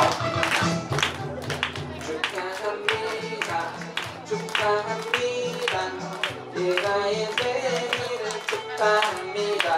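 Guests at a Korean baby's first birthday party clap in steady rhythm along to a sung birthday song, the claps mixed with singing voices throughout.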